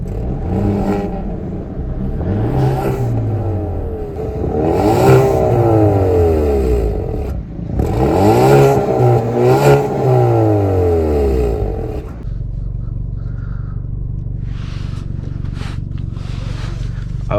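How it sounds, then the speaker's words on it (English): A 2020 Hyundai Veloster N Performance Pack engine revs up and down twice in rising and falling sweeps, loud and close, then settles into a steady low idle. "Let's give it some revs."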